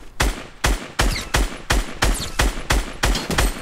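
Gunfire in the Fortnite video game: nine or ten sharp, loud shots fire at a steady, fairly quick rhythm, each with a short crack and decay.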